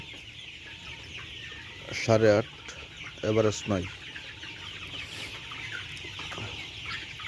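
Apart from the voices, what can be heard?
chickens clucking on poultry farm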